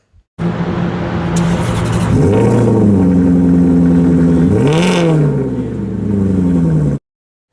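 A Maserati Quattroporte GTS engine revs up close and loud, its steady idle note swelling into two rising-and-falling blips before settling, then cutting off abruptly.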